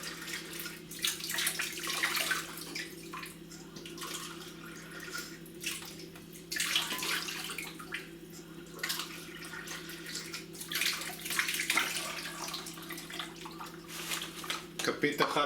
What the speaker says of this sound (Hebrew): נוסיף גם 3 כוסות מים.